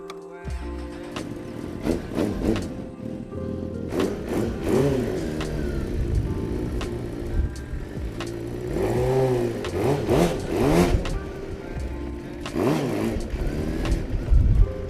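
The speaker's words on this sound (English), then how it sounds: "So standing burnout, watch this space, let's see if I can do it." A motorcycle engine revs hard through a standing burnout attempt, with rising and falling pitch sweeps and sustained loud roaring, close by.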